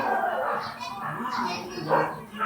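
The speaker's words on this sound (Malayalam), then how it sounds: "അപ്പൊ അതിന്റെ ദേഷ്യം തീർക്കുക നായ" A pet dog barks and whimpers in a home at visitors next door, sounding somewhat distant and muffled beneath continuous talking, with a louder yelp near the end.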